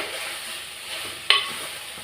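Bitter gourd frying in hot oil, a steady soft sizzle with a sharp utensil clink partway through, no voices.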